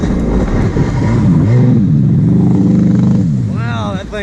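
A WaveBlaster 701 personal watercraft engine roars loud and close, its pitch sweeping up and down as the throttle changes, with a voice briefly audible over it.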